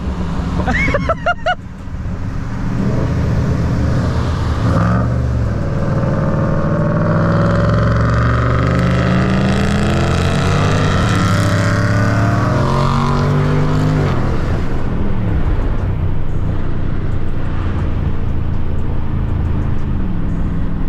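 A widebody Dodge Scat Pack engine revs hard and loud nearby at night, climbing and falling in pitch through several gear changes, with a brief sharp rattle at the start.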